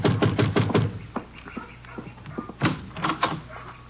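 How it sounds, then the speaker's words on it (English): Knocking on a door in a 1951 Texas Rangers radio drama, two clusters of quick, sharp raps separated by a pause, close and clear. "You better knock again."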